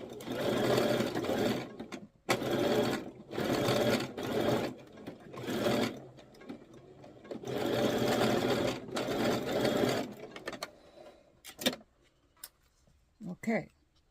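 A sewing machine stitches down the seams of a sweetheart-neckline dress, running in several long steady bursts with short pauses between them, then stopping for a few faint handling clicks near the end.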